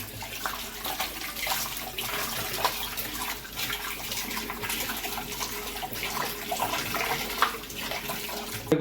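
Water runs and splashes steadily from a tap into a basin over chicken legs being washed, a continuous close-up pouring sound with no speech.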